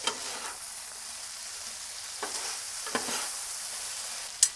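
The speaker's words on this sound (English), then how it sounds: "don't forget about our trusty marinade. We're just gonna dump all that in there." Pepper steak marinade sizzling on a Blackstone griddle, a steady hissing fry close by with a few brief scraping clicks of a utensil, no talk.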